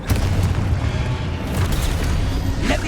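A Confringo spell blast in Hogwarts Legacy gameplay, a heavy close boom with rumbling, crackling debris that stays loud throughout and ends on a sharper burst.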